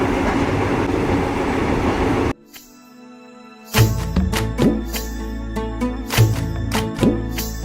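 A train rolls across the wooden Death Railway bridge with a steady roar, then after a brief quiet stretch comes a loud, close run of rhythmic clanks and clacks from the wheels hitting rail joints.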